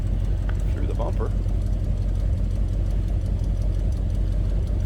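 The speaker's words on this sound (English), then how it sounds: "Let you hear it run. Of course, the exhaust exits through the bumper." A 1956 Cadillac Coupe Deville idles with its exhaust exiting through the rear bumper, a low steady rumble heard from close behind the car, with a brief faint voice over it.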